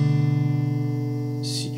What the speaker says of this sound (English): See, hear that sound of the minor chord?